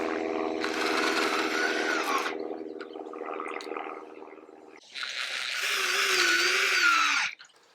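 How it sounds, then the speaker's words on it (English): A cordless power drill drives screws into a new wooden fence, two loud whirring runs that rise and fall in pitch, separated by a lower, quieter motor drone, close up with no talking. "I put these screws in."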